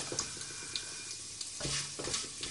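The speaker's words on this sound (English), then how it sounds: "You just need to saute this for about 1 minute on a medium flame." Chicken pulao sautéing in a pressure cooker over a medium flame, a soft continuous sizzle with occasional scraping stirs of a spoon against the pot, close and gentle, no voices.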